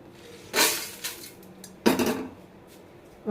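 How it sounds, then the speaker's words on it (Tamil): Dry-roasted whole spices such as cloves and fennel are tipped into a metal vessel, making two clattering clinks of metal against metal, near and sharp, with no talking. "வறுத்தாச்சு ஒரு பாத்திரத்தில் மாற்றிக்கலாம்"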